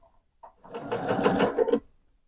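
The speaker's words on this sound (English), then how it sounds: "So then I'm just going to sew along here." A sewing machine runs a short burst of stitching along the edge of a quilted tote bag, starting up, whirring steadily for about a second and a half, then stopping, close and clear with no talk.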